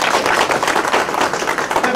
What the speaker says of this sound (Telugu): ఒక్కసారి గట్టిగా చప్పట్లు అయితే